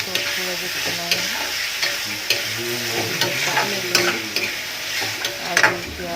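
Potatoes and green peas for poha are stirred as they fry in a pan, with a constant sizzle and periodic spatula scrapes and knocks close by.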